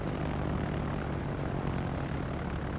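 Fighter planes in the World of Warships naval battle game drone with a steady, continuous propeller-engine roar, loud and unbroken throughout.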